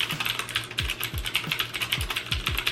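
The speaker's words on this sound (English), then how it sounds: "blue mechanical switches are known for their clicky sound and sharp physical bump when pressed" Fast typing on a keyboard with blue clicky Cherry MX mechanical switches makes a dense, crisp stream of close, loud clicks with deeper thuds as keys bottom out, and no talking.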